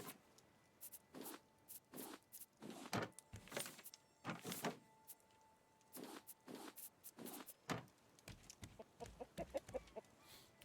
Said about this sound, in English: Okay, chickens. Where are they?